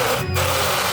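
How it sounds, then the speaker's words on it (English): A drill bores a big hole through a terrarium, a steady loud whirring grind with a brief dip partway through, running continuously for the whole moment. "The first thing I do is drill a big hole into it."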